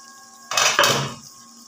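Fried masala eggplant is served from a tawa pan onto a plate, making a short burst of metal-on-ceramic clatter and scraping that lasts under a second before fading, with no talking.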